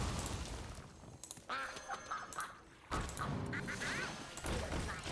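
Duck quacking from the Mother Duck card in the video game Hearthstone, a run of nasal quacks layered over busy game music and effects, moderately loud, with no talk.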